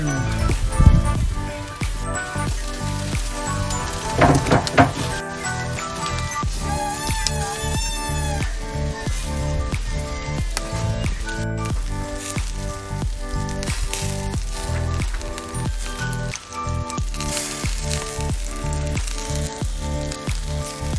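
Marinated pork barbecue sizzles and crackles in cooking oil, a continuous close frying hiss with scattered pops and a few louder spits, without talk.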